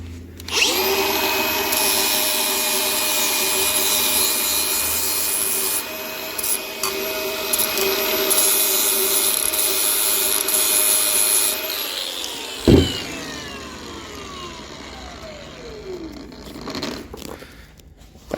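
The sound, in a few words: grinder cleaning up the sides of a steel frame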